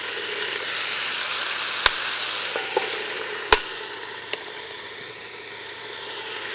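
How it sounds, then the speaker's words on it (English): Wood ear mushrooms stir-fried with soy sauce and pepper make a steady, faint sizzle in the pan. A few sharp clicks and pops stand out against it. No one speaks. "And then stir fry."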